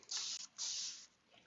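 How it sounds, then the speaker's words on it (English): A continuous spray bottle misting water over paint for a fall wall art piece gives two long, close hissing bursts, then a faint short puff, with no voices. "This is a continuous spray"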